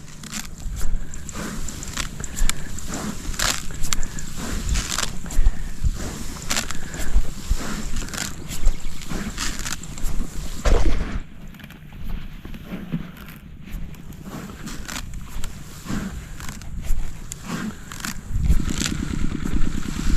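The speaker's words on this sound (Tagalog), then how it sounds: "Patay na natin yung makina." A boat engine runs nearby with a loud, chugging, knocking drone. Partway through it softens briefly, then continues steadily, and no one speaks over it.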